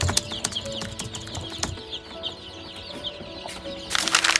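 Kampung chickens cluck steadily at close range, with some wing flapping and a louder flurry near the end.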